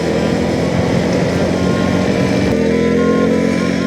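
A motorcycle engine hums steadily while riding, loud and close throughout, with a small shift in pitch partway through and no talking.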